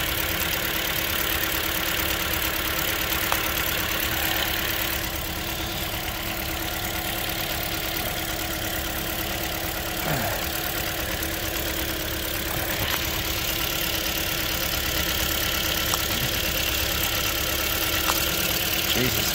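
A car engine idles steadily during a misfire diagnosis, a continuous mid-pitched hum with slight unevenness, heard up close with a few faint clicks and brief shifts in tone.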